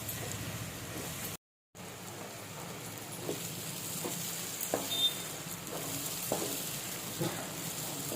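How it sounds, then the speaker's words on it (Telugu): Green chilli paste and sesame powder frying in hot oil for a pickle, a steady soft sizzle with occasional faint stirring scrapes, close and continuous with no talking. "పచ్చి వాసన పోయేంత వరకు ఫ్రై చేసుకోవాలి"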